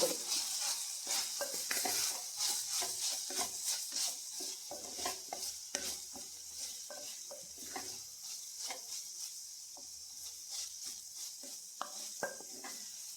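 Coconut being stirred into a long bean stir-fry in a pan, a continuous crackling sizzle with repeated scraping spoon strokes, close and steady with no talking.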